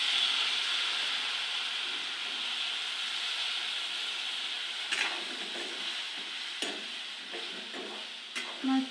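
Eggplant pieces hitting hot oil with red chili, turmeric and browned masala, giving a steady, close sizzle with occasional stirring clinks and scrapes.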